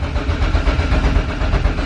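A nitrous-equipped car with a Honda H22 engine runs with a loud, steady, close-up rumble and faint pulsing, with no voices over it.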